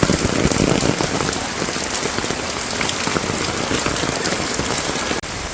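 Heavy rain falls on a village, a loud, dense, unbroken hiss of drops hitting nearby surfaces, with a brief dip at the very end, no talking.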